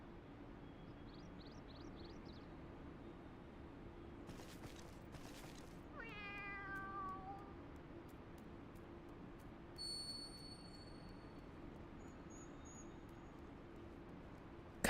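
A cat meows in Final Fantasy XIV Heavensward, a single drawn-out, falling meow amid faint in-game chimes and clicks over a low, steady background hum.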